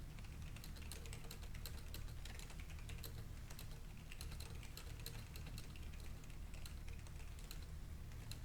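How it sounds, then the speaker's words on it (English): Steady computer keyboard typing runs throughout, a dense stream of fast key clicks layered over a constant low background hum, with no talking. "I am typing words on Discord"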